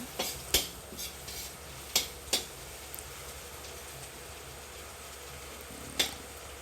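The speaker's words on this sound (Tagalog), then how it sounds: "Unti-unti natin siyang lulutuin or igigisa with the sibuyas and bawang." Chicken pieces with onion and garlic cooking slowly in a pan, a soft steady sizzle broken by several sharp utensil scrapes and clinks against the pan, close by and with no voices.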